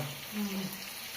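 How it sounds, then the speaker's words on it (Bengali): Water is poured into a pot of curry with potato and pumpkin in a home kitchen, a short steady rush of liquid with a faint sizzle, fairly quiet and alone. "পানিটা দিয়ে দিছ"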